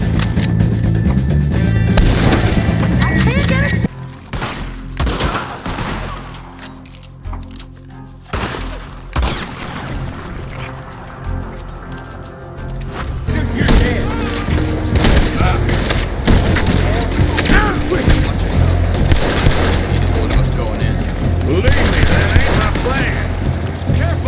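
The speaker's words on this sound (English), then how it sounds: "The guns sound powerful" Heavy gunfire in the video game Red Dead Redemption 2, loud repeated shots and booming volleys with splintering impacts, sustained across the scene alongside in-game speech.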